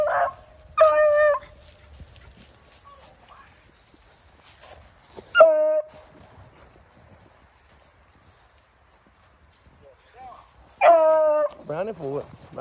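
A beagle hound running a cottontail rabbit in eastern North Carolina gives a few sharp, yelping barks in separate bursts, fairly close, with quiet outdoor gaps between them.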